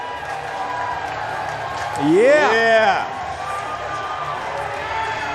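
A crowd at a Dew Tour men's street skateboarding final cheers and claps steadily in the background, swelling briefly into a louder roar beneath an announcer's continuous commentary.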